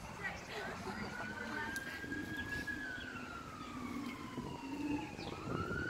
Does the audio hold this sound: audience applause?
no